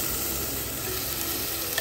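Masala paste sizzling in hot coconut oil with onions in a pan, a steady close crackling hiss that holds evenly throughout with no talking.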